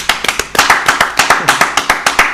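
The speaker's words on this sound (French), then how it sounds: "Est-ce qu'on peut applaudir?" A small audience claps at a French live fashion show, with sharp, distinct handclaps that come close and loud in an uneven rhythm.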